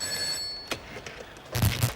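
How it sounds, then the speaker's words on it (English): A telephone bell rings in an office at a detention centre, a short bright ring at the start followed by a couple of clattering knocks and a louder burst near the end. "just answer your own phone"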